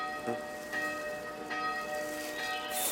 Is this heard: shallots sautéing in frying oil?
no